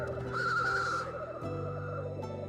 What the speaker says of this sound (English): singing seductive melodies in the form of cooing and long murmurs